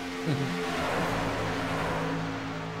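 Race cars, Chevy Silverado HD trucks at Daytona in iRacing, roar steadily together around a banked turn, a continuous engine drone heard alone at moderate level.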